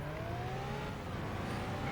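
Engine drone of a car chasing a sports car in the video game Stuntman, a steady, loud roar with a slowly shifting tone and no talking.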